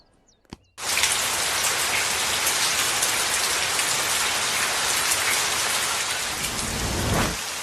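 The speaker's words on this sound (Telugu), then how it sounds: "ఏం చేయను, ఒకటే వాన మరి" Heavy rain pours down in a steady, loud, dense hiss. It begins abruptly after a brief quiet moment and continues without a break until the end.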